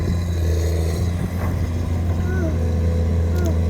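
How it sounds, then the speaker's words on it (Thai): Loud, steady low engine roar of a Komatsu PC200-8 excavator running continuously while digging a drainage pipe trench, with a faint voice talking underneath. "กระหึ่มสุดๆฮะเสียงเครื่องยนต์ของเขา"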